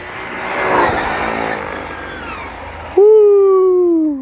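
A Redcat Rampage XBE 8s fifth-scale RC buggy roars at full throttle with a broad rushing whine, then a loud, steady high motor tone takes over close by and fades at the end.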